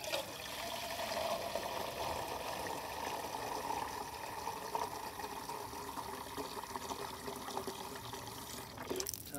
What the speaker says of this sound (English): And then we're gonna turn the tap on.